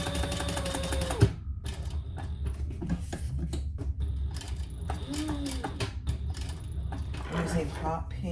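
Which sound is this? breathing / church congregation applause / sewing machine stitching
sewing machine stitching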